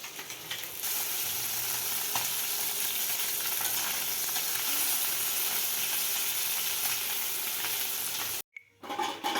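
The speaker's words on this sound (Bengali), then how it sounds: "দেখো এখানে একবার ভাজা হয়ে গেছে আর এখানে ভাজা হচ্ছে" Continuous crackling sizzle of fish frying in a pan, steady and close, cutting off abruptly near the end before resuming briefly.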